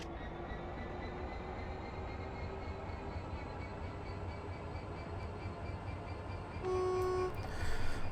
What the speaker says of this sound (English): Well, the train horn is actually seems very quiet.